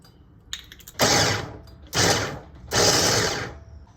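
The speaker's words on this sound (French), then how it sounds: "Je vais mettre mes noix à mixer." A food processor blends walnuts with a little hazelnut oil, its motor running in three loud bursts of about a second each, separated by short pauses.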